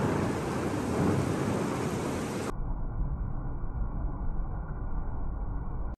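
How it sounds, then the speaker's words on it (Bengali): A heavy downpour roars as dense, steady rain noise throughout, loud and unbroken, its tone dulling partway through, with no distinct thunderclap standing out. "খুব জোরে বৃষ্টি হচ্ছে"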